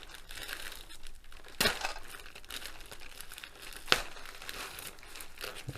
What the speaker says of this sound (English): Make sure I'm only cutting the bag.